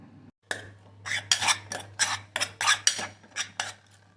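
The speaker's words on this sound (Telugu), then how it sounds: "అన్ని ఇంగ్రీడియంట్స్ ఈ విధంగా వేసి మిక్స్ చేసుకోవాలి" Gongura leaves, walnuts, chillies, cumin and sesame are stirred in a dry pan, a series of rhythmic metallic scrapes and clinks from a spoon against the pan, close and fairly loud over a low steady hum.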